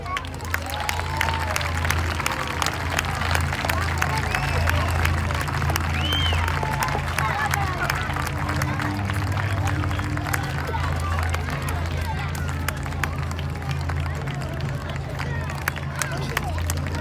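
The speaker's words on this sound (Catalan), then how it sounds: "Un fort aplaudiment pels nens i nenes que han fet ocells." An audience at a children's Sant Jordi legend performance giving the children a loud round of applause, dense sustained clapping with crowd chatter mixed in, lasting the whole stretch.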